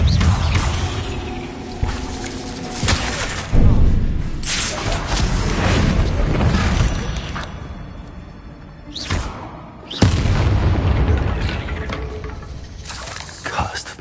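Confringo spell blasts in Hogwarts Legacy go off as several loud booms and thuds spread across the stretch, with whooshes and debris crackle between them. A person speaks over parts of it.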